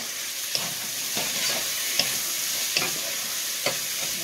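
Pork belly fries in a pan with sautéed garlic, onion and tomato, giving a steady close sizzle broken by sharp stirring clicks about every second, with no voices.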